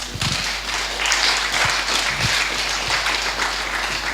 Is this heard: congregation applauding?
yes